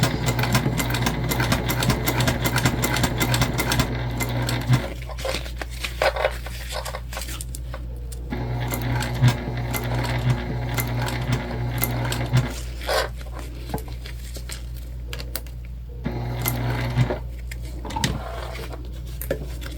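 Sewing machine stitching fabric for a travel sling bag, a close rapid mechanical whirr in bursts with short pauses between runs, no talking.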